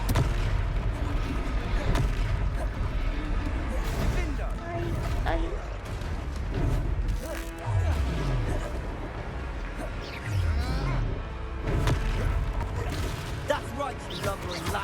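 Booming blast-spell explosions and combat crashes in a Hogwarts wizarding video game, continuous and loud under steady game music, with a voice calling out spells throughout.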